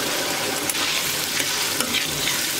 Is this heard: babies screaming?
no